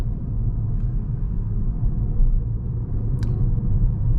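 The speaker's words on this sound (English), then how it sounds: "you're gonna hear now the petrol engine" Peugeot 308 GT Hybrid with its petrol engine running, a steady low rumble and hum heard from inside the car, even and continuous with a brief faint click partway through.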